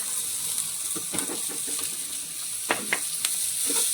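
Green beans being stir-fried in an oil pan with red chili and turmeric give a steady close sizzle, with a few sharper crackles and stirring scrapes scattered across it.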